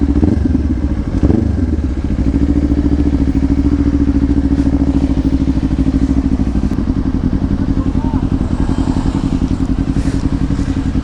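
A 2024 Kawasaki Ninja 500 SE engine braking, heard as a loud, close, steady low rumble with fast rhythmic pulsing, along with a few clunks and rattles near the start.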